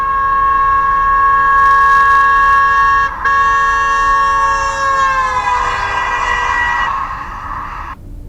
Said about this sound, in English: listen now as this car approaches, then passes in this video